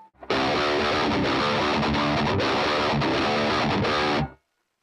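Electric guitar played through a twangy metal amp-sim preset blending AC30 chime with tread plate distortion, a dense, loud, saturated riff with chugging palm-muted hits, ringing steadily for about four seconds before stopping abruptly.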